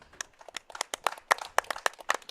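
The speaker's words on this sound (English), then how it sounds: "let's get a round of applause for Lucky Rabbit" A small audience claps for the sponsor at the Lucky Rabbit venue during a live podcast recording, with sparse, distinct individual claps in an uneven rhythm, close and fairly light.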